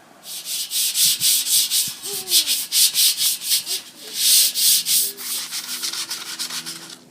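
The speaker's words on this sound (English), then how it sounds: "we removed all the rust and the loose paint" Rust and loose paint are being scraped and sanded off an old glass-topped table, giving a loud, rhythmic series of gritty rubbing strokes, each about a third of a second long, with a few faint clinks in between.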